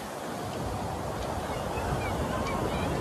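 Ocean surf rolling in at a North Shore beach on Oahu, Hawaii, a steady broad wash of breaking waves with wind buffeting the microphone, continuous and fairly close.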